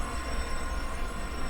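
Train in the ProtoRo railroad video game rolls past with a steady, dense rumble and faint wheel noise, continuous and fairly close throughout, with no talk.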